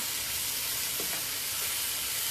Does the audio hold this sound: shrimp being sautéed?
yes